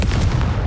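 A Confringo spell blast in the Hogwarts Legacy video game, a single short booming explosion with a deep low rumble, loud and close, no voices over it.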